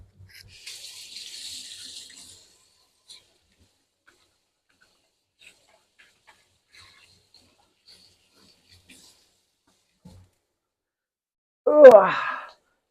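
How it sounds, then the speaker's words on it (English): Tap water running into a kitchen sink for a quick hand wash, a soft broadband splash for about two seconds near the start, then near silence before a short voiced sigh at the end. "So I'll wash my hands off real quick"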